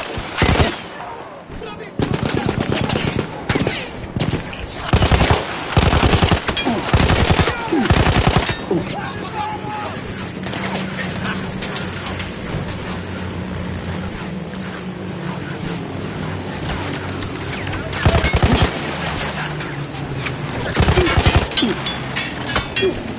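A manned field gun fires in Battlefield 1: loud, close bursts of heavy gunfire come in rapid volleys, easing into a steady rumble of distant battle before more blasts near the end.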